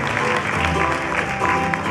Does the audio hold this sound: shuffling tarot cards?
no